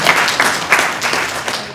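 Audience at a mortgage initiative launch event clapping together, a brief, dense burst of applause that stays fairly loud and even throughout with no talking over it.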